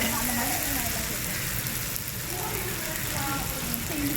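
Finely chopped small onions sizzle in coconut oil and ghee, making a continuous crackling hiss under a voice talking.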